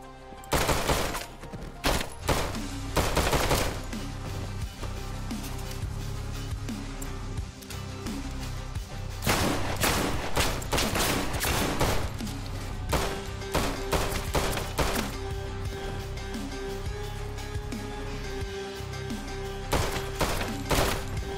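Shotgun gunfire in the video game Intravenous 2, loud close blasts repeated at irregular intervals over a steady layer of game music and noise, with several quick bursts in a row.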